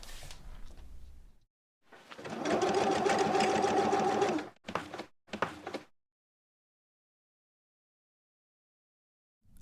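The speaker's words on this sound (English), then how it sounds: "Liselotte sews samples and brings them to C Studio, a local sewing company in Ikest" A sewing machine stitching fabric samples runs in a steady buzzing burst for about two seconds, then gives two short runs before falling silent, close and with no voices.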